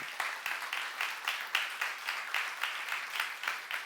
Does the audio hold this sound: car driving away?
no